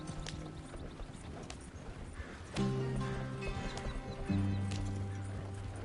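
Horses galloping in Red Dead Redemption, with a rhythmic clip-clop of hooves running throughout under a swelling musical score and ambient game sounds.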